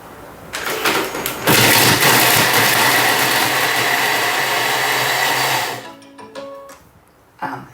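Thermomix TM7 blade spinning up at speed 7 to chop meatloaf ingredients, a loud close whirring roar that starts abruptly, holds steady for about four seconds, then winds down, followed by light clatter.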